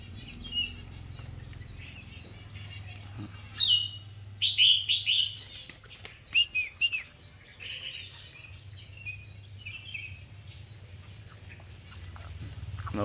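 Moulting birds kept at home chirp and tweet in bright bursts of call notes, loudest in the middle stretch, set against a steady low hum with occasional clicks and knocks.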